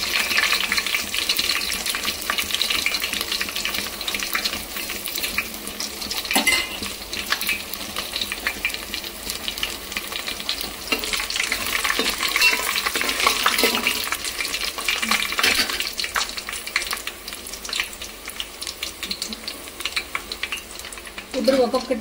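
Garlic, dried red chillies and tempering spices sizzle steadily in hot oil, a continuous close crackle and hiss with occasional stirring clinks against the pan throughout.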